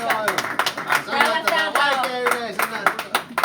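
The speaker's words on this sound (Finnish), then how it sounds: "Taputetaan." An audience claps in a steady burst of applause, loud and close, with dense overlapping hand claps across the whole stretch and some voices mixed in.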